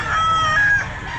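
A rooster at an outdoor pet market gives one loud, close crow that rises and holds in a single drawn-out call over low market background noise.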